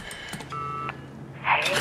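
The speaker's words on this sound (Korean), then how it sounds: "곧장 아내에게 전화를 거는 콜" A telephone is dialed in a short burst of electronic keypad tones and beeps, followed by a brief rustle at close range.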